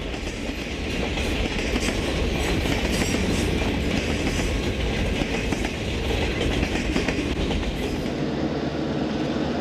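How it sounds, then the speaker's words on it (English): A train rolls along the railroad between Willits and Petaluma, a steady, loud rumble with rhythmic clickety-clack of wheels on rail joints that holds throughout without voices. "our cameras captured the running of trains from Willits to Petaluma during daylight hours"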